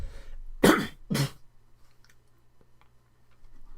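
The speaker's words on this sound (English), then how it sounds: "I gotta clear my throat." A person clears their throat in two quick, harsh bursts close to the microphone, followed by a quiet room with faint small ticks.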